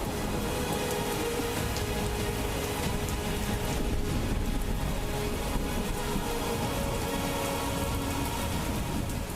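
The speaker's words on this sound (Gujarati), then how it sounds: "બપોર બાદ ભારે વરસાદથી દિયોદરના બજારમાં પાણી વહેતા થયા છે" Heavy rain pours steadily over the flooded Deodar market in Gujarat after an afternoon downpour, a dense, continuous roar of water hitting streets and surfaces, loud and unbroken throughout with no voices.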